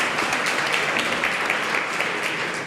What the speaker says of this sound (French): Je pense qu'on peut à nouveau les applaudir.